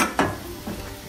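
Broth poured into a hot pan while cooking filé à mineira, giving a sharp splash and sizzle at the start, then a softer hiss and a light stirring clatter. No one speaks.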